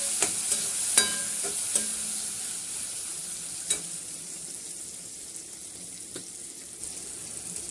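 Tomatoes cook in a pan for sabudana khichdi, a soft steady sizzle punctuated by several sharp spoon taps early on, then a few quieter clicks as the hiss continues.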